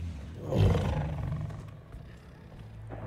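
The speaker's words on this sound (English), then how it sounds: "So Kraven has a pet tiger" A tiger roars in the Spider-Man 2 video game, one loud, rough, drawn-out roar that swells early and trails off into a low rumbling growl, heard alone without talk.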